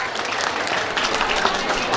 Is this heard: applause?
yes